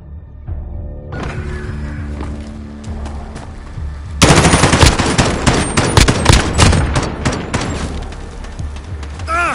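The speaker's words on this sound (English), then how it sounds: "Ugh, they're shooting at me!" PS4 video game gunfire, rapid automatic bursts erupting midway after a quieter droning lead-in, then sustained close, loud shooting with booming impacts.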